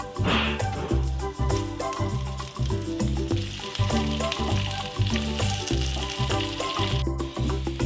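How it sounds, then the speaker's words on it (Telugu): Curry leaves frying in oil in a pan for curry leaf chutney, a loud continuous sizzle and crackle with occasional stirring rattles, close and steady throughout with music playing underneath. "కరివేపాకుని 2 వాయలుగా వేయించుకుందాం"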